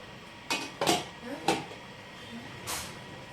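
A lid is lifted off a pot of vegetable dal with a few quiet metallic clinks and clatters, spaced out against a soft background hiss.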